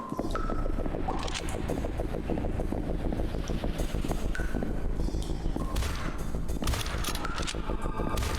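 Rapid sustained weapon fire in the game This Strange Realm Of Mine, a dense, loud, continuous rattle of shots with a few tonal ringing effects layered over it.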